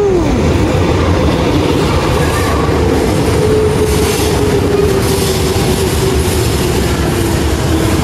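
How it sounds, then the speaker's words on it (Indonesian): A KRL commuter train in the Jakarta area rolls past close by, its steady rumble and clattering wheels joined by a long metallic squeal, loud throughout. "Udah 3 kali kereta KRL lewat nih."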